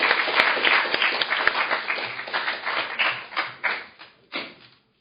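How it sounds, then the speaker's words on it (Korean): Applause at a Korean political party members' gathering closes the meeting. Many hands clap together at first, then the clapping thins to scattered individual claps that die out. "오늘 이 자리 우리들의 박수로 마치도록 하겠습니다"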